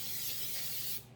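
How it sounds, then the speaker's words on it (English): Baking spray with oil and flour in it is sprayed from a can into a bundt pan in one steady, close hiss lasting about a second that then cuts off. "I'm going to spray it with some of this baking spray"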